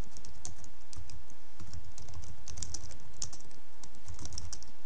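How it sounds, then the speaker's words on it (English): Close, steady typing on a computer keyboard as a command is entered, with irregular quick key clicks and no speech. "We type in our original attack command"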